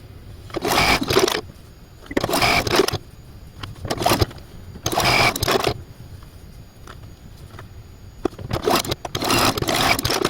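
A sewing machine stitches a quilt seam in several close, loud bursts of whirring, each one to two seconds long, broken by quiet pauses, with no voices.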